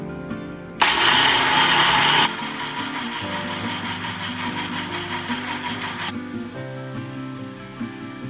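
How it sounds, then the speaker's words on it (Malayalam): A kitchen mixer grinder whirs loudly as it grinds soaked rice, cooked rice and water into batter, starting with a harsh surge and then settling into a steady motor drone before switching off. "അത് മിക്സിയിൽ ഇട്ടിട്ട് അരയ്ക്കാം"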